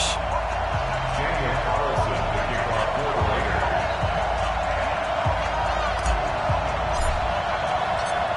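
A stadium crowd in an EA Sports NFL game between the Denver Broncos and Oakland Raiders makes a steady, loud broadband roar with thuds and faint cheering, a commentator talking over it.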